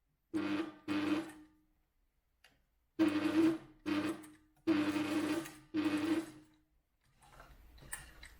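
A sewing machine stitches camper van curtain fabric in six short bursts of rapid mechanical whirring separated by brief pauses, with faint handling noises at the end.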